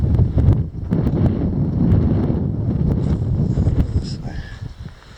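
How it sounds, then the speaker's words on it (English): Cold wind blowing outdoors on a mountain at a silver mine site, a steady roaring gust buffeting the microphone with low rumble throughout, loud and close, easing slightly at the end. "Wind's blowing."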